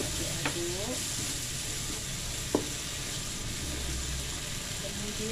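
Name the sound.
stirring spices cooking in a pan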